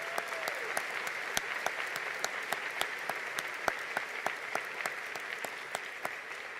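Scattered, fairly faint applause from a high school spring graduation audience honoring standing students, with individual sharp claps ringing out distinctly in an uneven, sparse rhythm across a large hall.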